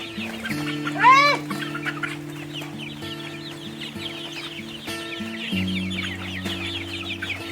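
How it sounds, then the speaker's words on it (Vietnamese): Chickens at a local farm, around fifty days old, cluck steadily at close range at feeding time, with a sharp squawk early on and layered calls under a constant low machine hum. "local chicken farm. This is the way how we feed them."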